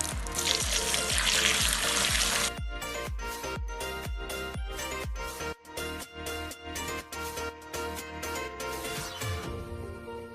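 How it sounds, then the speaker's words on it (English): Water pours into a pot of rose apple fruit for homemade wine, a bright rushing stream at first that gives way to irregular sloshing and clinking, close and moderately loud, with no talking. "So we will be adding in the water."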